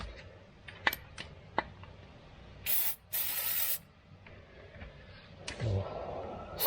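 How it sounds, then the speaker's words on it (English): Rust Check aerosol sprayed onto rusty skid guard bolts on a Chevrolet Colorado, two close hissing bursts of about a second each, with small clinks and taps around them. "I'm going to spray these bolts with some rust check."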